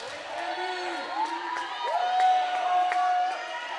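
Crowd cheering and whooping at a girls' high school volleyball match between Palo Alto and Mountain View, a steady mass of voices swelling louder midway with high shouts and whistles rising above the din.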